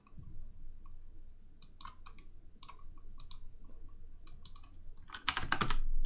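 Numeric value typed on a computer keyboard, several short bursts of close key clicks separated by quiet gaps, ending in a quick denser flurry of taps.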